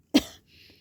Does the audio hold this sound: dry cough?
yes